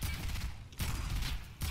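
Fortnite gunfire arrives as dense bursts of rapid shots, loud and close, broken by brief gaps, with no talking.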